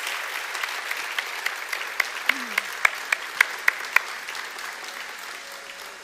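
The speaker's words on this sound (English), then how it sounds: "let's give all our CSSP team a round of applause." Audience applause at a small workplace town hall, a soft wash of clapping with a few louder, regular claps from one nearby person, fading out toward the end.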